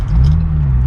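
A stage 1 tuned BMW 335i convertible engine gives a steady, loud low rumble, droning continuously and close with no voices over it.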